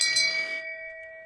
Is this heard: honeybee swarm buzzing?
no